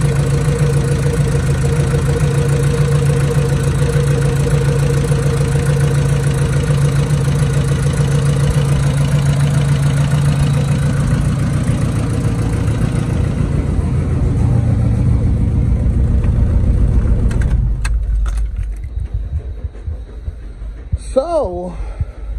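A 1988 Starion's engine runs steadily up close, a constant low mechanical drone for most of the stretch before it drops off and only faint scattered noises remain.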